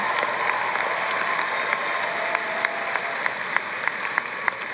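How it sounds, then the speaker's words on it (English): Sustained applause from a commencement audience at TCU's fall ceremony, a dense even wash of many hands clapping, with a few sharper claps standing out as it goes on. "that deserves an applause"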